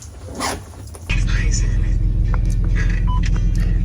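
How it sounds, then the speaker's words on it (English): Steady low engine rumble and road noise inside a moving car heading to summer camp, starting abruptly after a second of quieter sound and holding loud and constant to the end. "okay, now I'm in the car, we're on our way"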